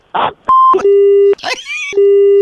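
Telephone tones after a call is hung up: short electronic beeps and steady sustained tones in a repeating pattern, loud and close, broken by brief noisy bursts and a warbling sound.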